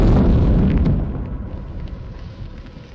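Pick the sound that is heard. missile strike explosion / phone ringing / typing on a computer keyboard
missile strike explosion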